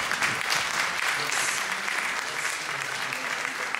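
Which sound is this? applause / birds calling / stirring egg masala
applause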